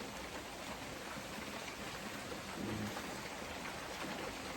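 Heavy rain pours down steadily during a rain storm, a dense even hiss of drops hitting surfaces near a deck, faint but constant, with a brief low rumble partway through.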